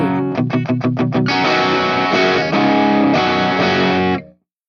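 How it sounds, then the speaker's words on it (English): Electric guitar played through a Sweet Honey Overdrive pedal: a few quick muted picked notes, then loud sustained overdriven chords ringing with thick distortion before stopping abruptly. "So the Sweet Honey Overdrive, which is kind of one that I would have on the whole time."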